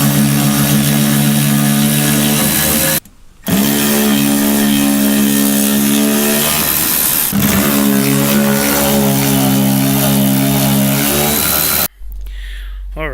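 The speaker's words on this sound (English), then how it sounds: "now I'm going to move on to taking these 3 screws out here for the filler neck" A power driver whirs steadily while backing out the filler neck screws on a 1995 Ford F150 fuel tank, a loud continuous tool drone with two brief pauses between screws.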